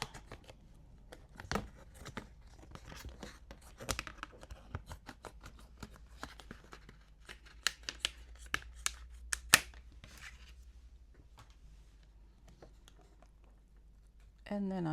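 Scissors snip roughly around a paper pincushion pattern with a run of quiet, irregular crisp clicks and rustles, close and faint.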